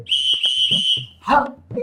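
A toy whistle answers in short, shrill bursts: a steady high tone sounds twice in quick succession close by, and brief voices and noise follow.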